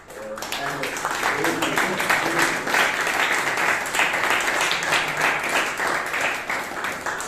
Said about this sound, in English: A big round of applause to Bhavya for that attempt